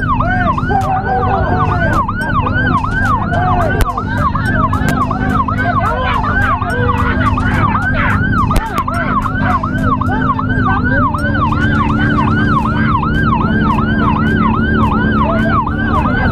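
Ambulance siren wailing in a fast, repeating up-down cycle on a road, loud and close, steady for the whole stretch over traffic rumble and engine noise.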